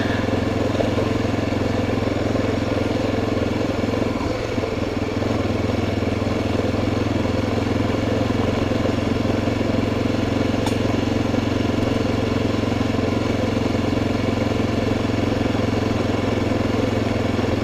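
Steady motorcycle engine drone while riding, a continuous low mechanical hum with even loudness throughout and no talk over it.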